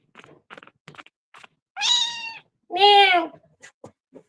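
A cat meows twice in close succession, two drawn-out, fairly loud calls close to the microphone, with soft tapping or clicking sounds scattered before and after.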